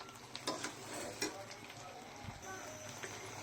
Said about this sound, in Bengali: আস্তে আস্তে নেড়ে নেড়ে বড়ইগুলোকে ভেজে নিতে হবে।